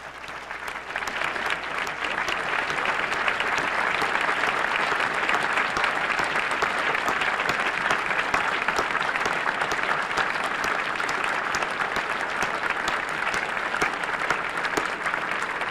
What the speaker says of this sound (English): will you please stand so that all of us may recognize you and applaud you?